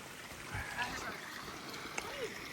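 A small stream trickles beside the Appalachian Trail, a steady wash of water that runs through the whole stretch at moderate level with a few faint splashes.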